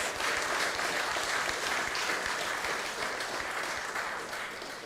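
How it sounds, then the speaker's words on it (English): Steady applause from an audience after a lecture at an annual emancipation event, a dense wash of clapping that holds evenly and tapers slightly at the end. "Please give Mr. Carty another round of applause."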